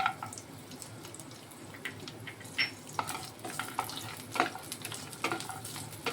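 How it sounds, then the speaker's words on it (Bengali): Ginger, green chilies and cashews fry in oil while being stirred, giving a steady soft crackle with scattered spatula scrapes and small pops across the whole stretch, fairly quiet and with no voices. "এই তেলে আদা আর কাঁচা লঙ্কাগুলো একটু নেড়ে নেব, তার সঙ্গে একটু কাজু দিয়ে দেবো।"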